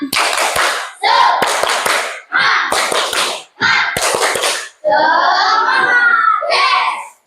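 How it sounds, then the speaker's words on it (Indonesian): A classroom group of children performs the rhythmic 'tepuk semangat' clapping chant, loud bursts of patterned claps alternating with voices chanting together in short, energetic phrases. "Kita tepuk semangat dulu ya"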